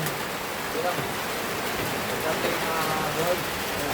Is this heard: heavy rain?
yes